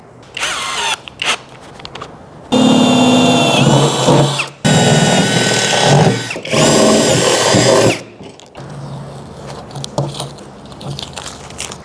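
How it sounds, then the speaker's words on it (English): A power drill bores bolt holes for a rooftop tent bracket in bursts: a brief start near the beginning, then two long loud whining runs separated by a short pause, followed by quieter handling clatter. "We'll go ahead and drill the 2 back holes first"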